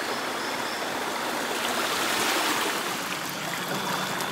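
Broad forest stream rushing steadily over rocks along an eroded, landslide-prone bank, a constant loud wash of flowing water with no pauses and no voices.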